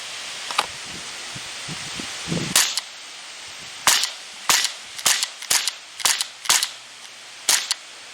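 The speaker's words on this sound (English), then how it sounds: "Let me give you an up close of how the blowback works here." Walther CP99 Compact CO2 BB pistol firing with blowback, sharp snapping shots with mechanical clacks, first spaced apart, then a quicker run of about eight shots.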